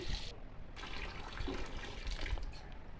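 Running tap water splashing and trickling into a container as rice is washed, soft and close, steady for a few seconds with no voices.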